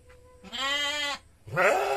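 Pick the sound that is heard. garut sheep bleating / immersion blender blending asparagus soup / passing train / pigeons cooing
garut sheep bleating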